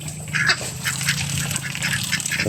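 Ducks quacking steadily in a backyard pen where they are kept and lay eggs, calls overlapping in a continuous chatter with a low hum underneath.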